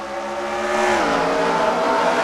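Race cars accelerate together on a restart in a stock car racing video game at the Trenton track, with a loud, steady layered engine roar that climbs in pitch and holds close throughout.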